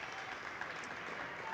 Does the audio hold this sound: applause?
yes